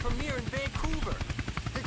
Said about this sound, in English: Incredible control keeping that helicopter so perfectly stationary.